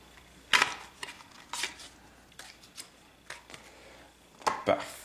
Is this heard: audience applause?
no